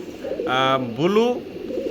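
A pair of blue opal-bar German Shield pigeons coo in soft low murmurs while someone speaks over them in two drawn-out, rising-and-falling phrases.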